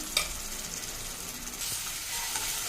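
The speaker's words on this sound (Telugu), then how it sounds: "అల్లం వెల్లుల్లి పేస్ట్ కూడా వేసేస్తున్నాను" Ginger garlic paste hits hot oil with cinnamon, cardamom and cloves in a pan, giving a loud, steady close sizzle that swells again near the end, with a brief stir and no voices.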